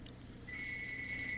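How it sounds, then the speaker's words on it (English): A landline telephone ringing indoors, a steady electronic two-tone trill that starts partway through and continues unbroken, heard alone against low room hum. "I know the phone's ringing, but oh well."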